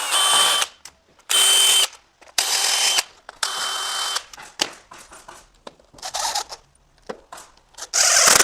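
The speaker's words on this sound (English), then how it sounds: "Don't drill too far or you're gonna start going into your glass" A power drill drives a screw into a patio door frame in several short, loud whirring bursts separated by pauses, with lighter clicks and handling noise between them and no talk.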